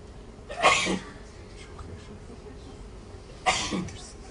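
Two sharp sneezes a few seconds apart, close and fairly loud, over a quiet background hiss.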